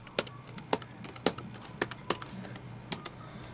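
A product key being typed on a computer keyboard during a Windows 2000 setup on real hardware: a dozen or so sharp, close key clicks in an uneven rhythm, with short pauses between bursts in a quiet room.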